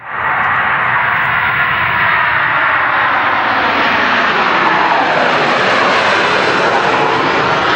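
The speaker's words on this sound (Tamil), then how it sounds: "ஏரோப்ளைனோட சவுண்டு கேட்டாலே நாம் வந்துட்டு மேலே பார்த்து எங்கே இருக்குது அந்த ஏரோப்ளைன் அப்படின்னு சொல்லி தேடிடுவோம்" A fixed-wing airplane passes overhead with a loud, continuous engine roar that swells and shifts in pitch as it moves across, filling the whole stretch without any voices.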